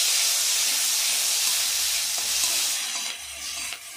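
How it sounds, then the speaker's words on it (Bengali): Garlic and green chilli paste fries with nigella seeds and a split dried red chilli, a loud, dense steamy sizzle that holds steady and then eases slightly, with faint stirring knocks. "ভালোভাবে ভেজে নেব।"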